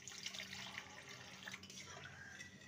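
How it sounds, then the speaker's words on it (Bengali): Water is poured into a cooking pot of moong dal with winter vegetables, a soft, steady splashing and trickling that is faint and close. "এবার দিয়ে দেবো পরিমাণ মতন জল।"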